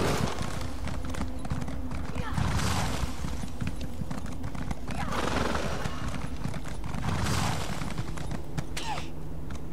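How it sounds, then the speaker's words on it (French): A horse in The Elder Scrolls Online gallops with steady clip-clop hoofbeats and a whinny, over continuous game music and ambient noise, with someone talking over parts of it. "Ah, ce cheval!"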